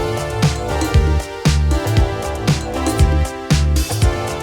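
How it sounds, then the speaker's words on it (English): A drum pattern in a remake plays heavily swung hi-hats off the grid over punchy kicks, repeating in a loose, shuffling loop, loud and close, with no voices. "In the second hook, we have some hats heavily swung"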